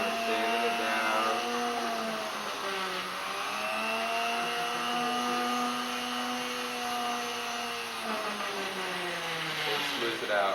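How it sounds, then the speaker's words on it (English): A motorized lapidary wheel grinding a silicated chrysocolla cabochon, a steady droning whine with pitch that rises and falls as the stone is pressed, continuous and close throughout with a voice faintly underneath. "And we're sanding it down."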